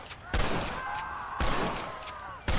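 Gunfire in the Western video game Red Dead Redemption, three loud, booming shots spaced about a second apart, each trailing into a long ringing echo.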